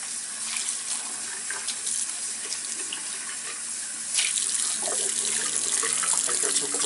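Tap water runs steadily into a sink during rinsing, a continuous close splashing hiss that grows a little louder partway through.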